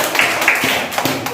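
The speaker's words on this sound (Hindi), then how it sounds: "तालियां बजा दीजिए" Children in a classroom clap their hands in a quick, uneven burst of close slaps lasting about a second, with faint voices underneath.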